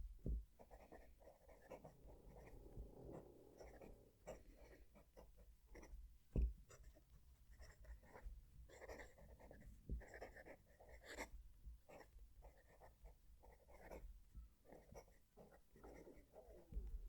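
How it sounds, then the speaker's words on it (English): Broad-nibbed Japanese pen scratching steadily across paper, close to the microphone, with continuous strokes and small taps over a quiet background. "I'm going to move the mic down to the page so you can hear the pen writing."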